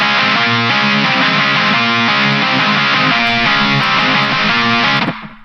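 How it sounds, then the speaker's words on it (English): Distorted lead electric guitar from the Odin 2 guitar plugin by Solemn Tones, run through an amp, plays a steady, loud riff with repeated rhythmic notes for about five seconds before ringing out and fading. "the lead guitar sounds like this."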